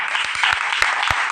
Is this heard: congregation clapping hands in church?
yes